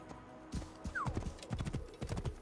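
A horse's hooves clip-clop in the video game Assassin's Creed Origins, a close, steady run of hoofbeats that comes in after half a second and keeps going. A short whinny rises over them near the start.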